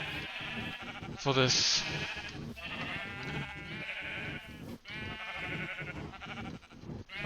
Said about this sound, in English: These are my sheep farms.